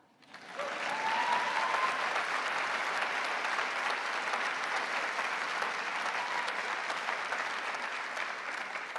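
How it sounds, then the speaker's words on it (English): Labour Party conference crowd in Liverpool breaks into sustained applause during a keynote speech, a broad, even roar of clapping from a large hall that swells quickly and holds steady for several seconds. "You can give me a clap for that bit."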